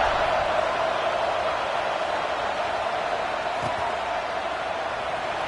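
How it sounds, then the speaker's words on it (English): A football stadium crowd at a Texas A&M game buzzes as a steady, dense wash of distant voices, unbroken and even in level throughout. "this crowd is buzzing after that last score"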